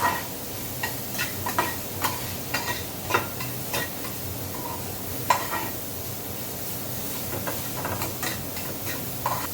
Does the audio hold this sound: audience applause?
no